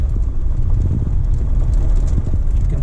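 A car bounces along a bumpy road toward the beach, giving a loud, low rumble full of irregular thumps and jolts, with no one speaking.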